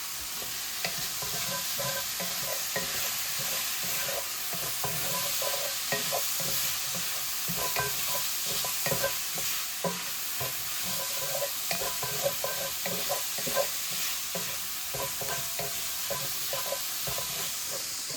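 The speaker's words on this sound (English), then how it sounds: "2 to 3 minutes cooking the coleslaw mix." Pork and cabbage coleslaw mix stir-frying in a pan, a continuous sizzle with frequent scraping and clacking of the spatula throughout, no talk.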